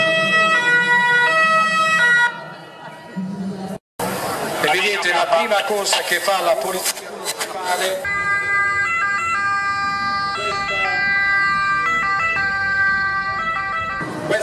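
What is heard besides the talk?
ambulance siren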